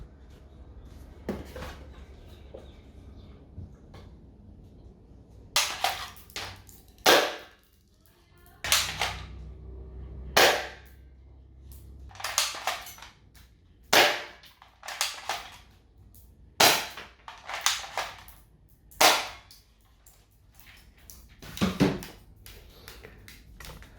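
A rifle in Minecraft fired repeatedly at a box, giving a series of sharp, separate shots with short pauses between them, some spaced out and some close together, with no talking over them.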